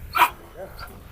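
A dog gives one short bark on a farm, then softer yips and whimpers, heard up close in a brief burst with people talking around it.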